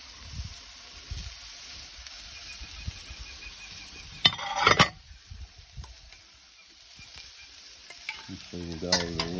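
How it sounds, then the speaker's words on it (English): Fresh garlic stir-frying on a hot Weber barbecue hotplate gives a steady, moderate sizzle with scraping stir strokes, a sharp burst of clatter midway, and a voice briefly at the end. "Last thing we're going to add is our fresh garlic."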